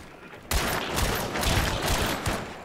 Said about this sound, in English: Yeah, I got a submachine gun.